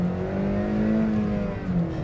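A 2012 Honda Civic Si engine pulls hard on a racetrack, a steady, loud drone with a rising harmonic whine held continuously throughout.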